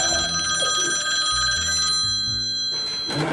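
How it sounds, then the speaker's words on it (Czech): A telephone bell rings loudly and steadily, a bright electronic trill running through the whole short moment alongside some faint background clatter, no talking. "Radši ten telefon."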